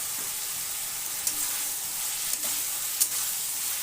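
Boiled chickpeas are stirred with spices in a hot oiled pan, giving a steady close sizzle with a few soft scrapes of the spoon against the pan; no talk.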